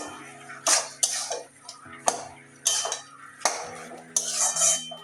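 A bottle gourd curry with fish roe and coriander leaves being stirred in a pot: about six distinct spoon scrapes and clinks against the metal at unhurried intervals, close and moderately loud.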